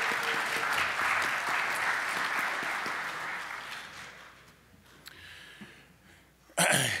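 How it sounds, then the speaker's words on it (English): Audience applause at a membership seminar, steady and fairly loud at first, then thinning out and fading over several seconds before a short burst of noise at the end. "So please give a round of applause to Nebraska."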